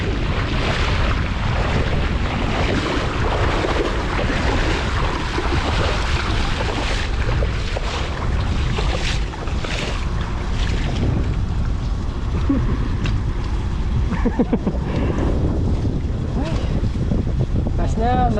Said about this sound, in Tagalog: Lumakas yung hangin.